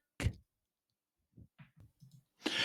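Poké Ball sealing after a capture: a sharp opening snap, a pause, then a string of soft wobbling clicks and a final bright burst as it locks shut.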